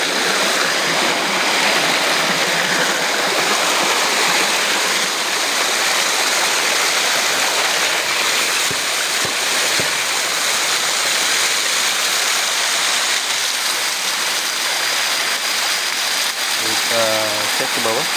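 Water flowing at a stopped hydraulic ram pump: a loud, steady rushing stream that fills the whole stretch, with a brief voice near the end.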